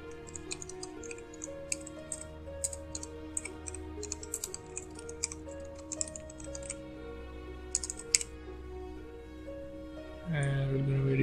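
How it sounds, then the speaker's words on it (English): Rapid typing on a computer keyboard, with quick clustered clicks and taps over a low steady music bed while entering text in PowerDirector 14 video editing software; the keystrokes are crisp and fairly close, and the music swells louder near the end. "and we'll be typing here"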